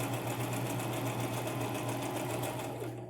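A sewing machine stitches fabric for miniature pillows with a fast, steady mechanical whir and rhythmic clatter, close and continuous throughout.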